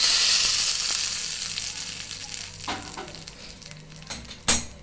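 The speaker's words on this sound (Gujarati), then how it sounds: "રાઈ અને મીઠો લીમડો એની આપણે વઘાર કરવાનો છે આપણી ચટણીનો" Mustard seeds and curry leaves sizzle loudly in hot oil for a tempering, then the spluttering fades as it is poured into dosa chutney, with a sharp clatter near the end.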